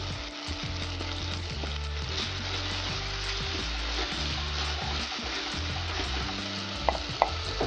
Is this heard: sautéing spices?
yes